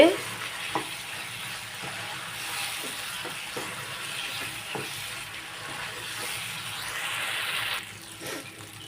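Beef pieces fry in a pan for a Tamil-style beef fry, a continuous close hiss of sizzling oil with light stirring scrapes and taps throughout, easing slightly near the end, with no talk.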